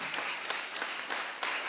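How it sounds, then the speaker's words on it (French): An audience claps for a young woman called up to receive an award at a regional trophy ceremony; brief, fairly soft applause with a few sharper claps standing out from the steady patter. "On invite à nous rejoindre cette première lauréate, Emilia Laura Gitarieux"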